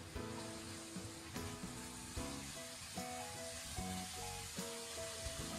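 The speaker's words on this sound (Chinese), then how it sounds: "最后再加入剩余的葱花和蒜末，再翻炒均匀" Long beans stir-fried with chopped scallions and garlic in a hot wok give a steady, close sizzle with occasional scraping stirs. Tonal background music plays throughout, and there is no talk.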